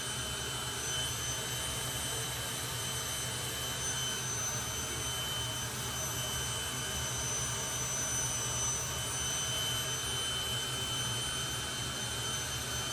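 A jet dragster engine at a drag race at Santa Pod Raceway gives off a continuous, steady, broadband roar, heard from some distance with no breaks.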